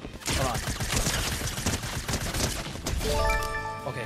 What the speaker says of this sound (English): who is shooting at me from afar right now?